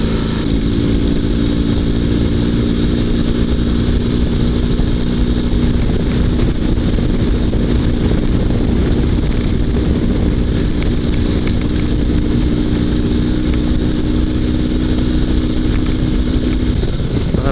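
A sidecar motorcycle engine runs steady and close on a city street at night, throttle held with a constant loud drone and buzzing hum over wind rush for the whole stretch, no speech.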